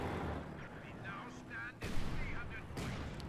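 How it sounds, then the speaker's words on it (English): An artillery strike lands in Company of Heroes 2, with whistling incoming shells and two heavy booming explosions amid battle noise, as faint game voices chatter underneath. "We have this Beaufort strike coming in."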